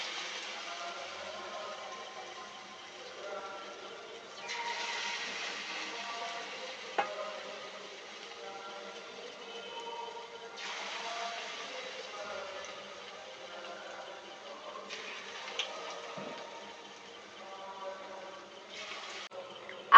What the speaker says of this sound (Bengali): কড়াইতে তেল গরম করতে বসিয়ে দিয়েছি তেলটা গরম হয়ে গেছে এরপর এর মধ্যে আমরা সুজির পকোড়াগুলো দিয়ে দেবো